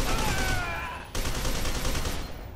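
Machine gun fire in the video game F.E.A.R. 2: a dense, continuous rattle of rapid shots, loud and close, with a brief break near the middle before the burst resumes.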